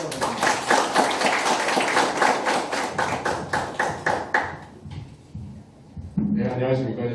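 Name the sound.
audience applause after speaker introduction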